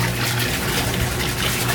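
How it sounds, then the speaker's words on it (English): Liquid fish fertilizer poured into a 200-gallon compost tea brew makes a continuous, steady splashing rush of liquid, fairly loud and close, with no talk. "now we're going to pour in our liquid fish at a rate of about"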